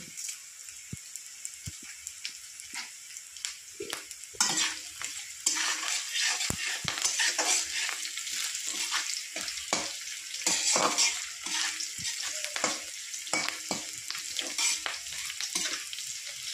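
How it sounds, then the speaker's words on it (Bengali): Garlic and five-spice seeds fry in hot oil with a crackling sizzle, interrupted by repeated sharp scrapes and taps of a spatula. The sizzle grows louder and denser after about four seconds and continues to the end. "সোমবার আমার লাল লাল করে ভেজে নিয়েছি, রসুন সব ভেজে নিয়েছি লাল করে"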